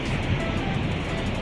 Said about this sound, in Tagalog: Ganun nga lakas yung alon dito.